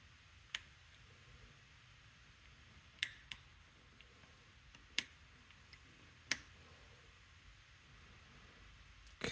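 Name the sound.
clicks of a Rosengrens 32A81 safe lock being picked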